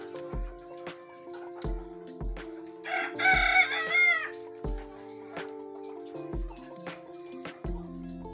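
A rooster crows loudly once, near and clear, amid a steady beat of low thumps and scattered clucks.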